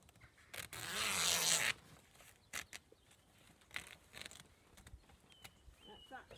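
Scissors slicing along the cover of a homemade compost bin, a brief rough ripping swipe followed by scattered faint rustles and taps, quiet and close.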